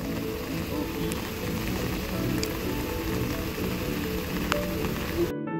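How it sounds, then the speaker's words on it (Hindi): Heavy rain pours outside a car, a dense, steady hiss with scattered drops and faint clicks, continuous and fairly soft throughout. "गाड़ी की तरफ चलते, बहुत तेज बारिश हो रही है।"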